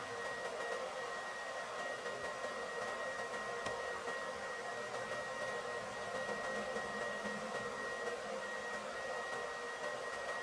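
A 70mm electric ducted fan jet motor for a Durafly D.H.100 Vampire model runs at 25% throttle, giving a steady, fairly quiet whirring whine with a thin high tone over a broadband rush, unchanging throughout.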